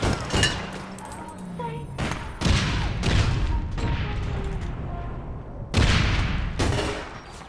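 Gunfire in APB Reloaded bursts out in several loud, sharp shots and short volleys separated by brief gaps, close by and harsh, with background game sounds between them and no talking.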